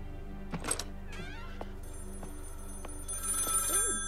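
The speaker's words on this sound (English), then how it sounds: "Heard a phone. Wanted to answer it" A telephone rings in the video game Maid of Sker in short repeated electronic bursts over a steady low hum, with a few clicks and a brighter tonal flourish near the end.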